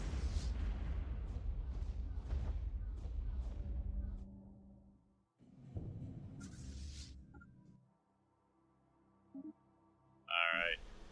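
Space battle explosions from Stellaris, heavy rumbling booms and bursts layered over each other in a dense barrage that fades out, followed by brief electronic game alerts.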